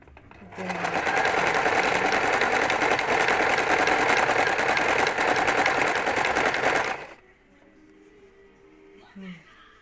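A sewing machine stitching in a steady fast buzzing run for about six seconds, loud and close, then stopping abruptly and leaving faint room sound.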